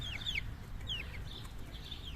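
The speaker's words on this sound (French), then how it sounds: "Ils sont beaux les petits coqs là." Blue Brahma chickens and young roosters give short chirpy clucks and squawks in a few bursts, close by, over a steady low rumble of background noise.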